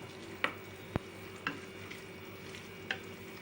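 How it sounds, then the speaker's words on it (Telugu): Ginger garlic paste frying in a pan for an Andhra-style prawn pickle, cooked toward dark brown: a steady soft sizzle with a few sharp clicks and taps of a stirring spoon against the pan, close and moderately quiet, no voices. "అల్లం వెల్లుల్లిపాయ పేస్ట్ని వేయించాలి"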